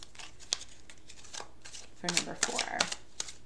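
Ascended Masters oracle cards being shuffled, a quick burst of riffling and flicking card noises under a person talking nearby.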